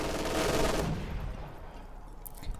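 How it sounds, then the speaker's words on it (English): A mortar carriage fires in Company of Heroes 2: a loud burst of gunfire-like blasts that fades into a quieter rumble, with a brief sharp crack near the end. "So I am going to use my mortar carriage"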